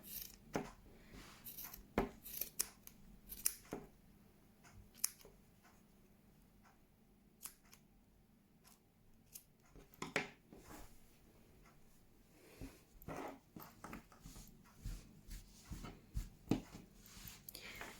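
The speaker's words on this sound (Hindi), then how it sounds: "तो उसके साथ ही हमने अगले वाला काट लेना है उसके बराबर।" Scissors cut wool yarn while a crochet scarf is finished, producing faint, scattered sharp snips and light clicks at irregular intervals over a quiet background.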